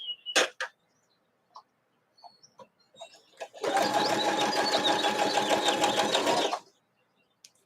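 A sewing machine stitches Seminole-pieced quilt strips in one loud, continuous burst of about three seconds, preceded by scattered faint handling taps and clicks and followed by quiet.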